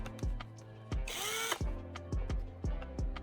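Electric drill spins a carbon rod taken from an AA battery and held in the chuck. Short whirring bursts repeat in a quick stop-start rhythm, with one longer, higher-pitched whine in the middle, all close and fairly quiet.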